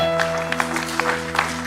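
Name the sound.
church congregation applauding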